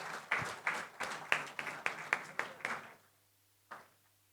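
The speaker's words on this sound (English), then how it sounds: "can we have a big round of applause for BillDesk?" Audience applause at a product launch event rings out as a burst of hand clapping that builds, holds for about three seconds and stops, followed by one short clap-like sound; the crowd sounds fairly near and fills the room.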